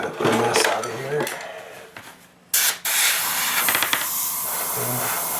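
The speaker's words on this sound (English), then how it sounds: "Basically, I just take my airbrush and make sure I got the mess out of here." An airbrush sprays acrylic paint while repairing a foam plane, giving a loud, steady, close hiss in the second half after a few seconds of handling noise and a brief sharp burst.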